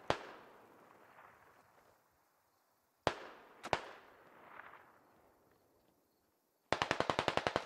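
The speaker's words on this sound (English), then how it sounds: "Russians shooting out at Silas" Gunfire from Russian soldiers in the game Operation: Coyote Ridge: a few sharp, echoing shots with long decaying tails, then a fast burst of automatic fire at the end, no talking.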